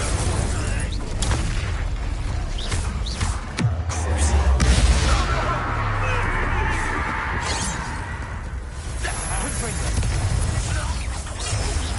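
Incendio fire spell blast in Hogwarts Legacy combat against a goblin: sharp bursts and whooshing booms amid battle noise, with a mid-clip heavy rumbling blast and voices shouting over the fight.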